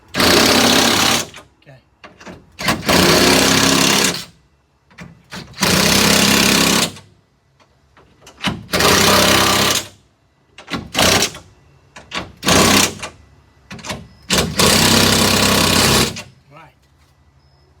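An impact power tool drives nuts tight on an International truck hood mirror, firing in loud, repeated bursts of a second or two with short pauses between, close up, with someone briefly speaking.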